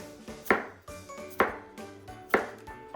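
A kitchen knife cuts through a broccoli stem on a cutting board in three crisp, evenly spaced chops about a second apart, each a sharp close knock on the board, with quiet handling sounds in between.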